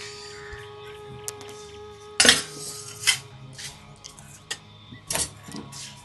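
Metal pots, dishes and cutlery being lifted and set down in a home kitchen, a few sharp clanks and clatters scattered among quiet rustling.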